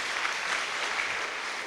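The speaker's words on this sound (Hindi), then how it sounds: "ताली बजाए एक बार।" A group gathered at a get-together in a Gurugram housing society claps hands together on cue, a steady dense patter of applause filling the whole moment with no talking over it.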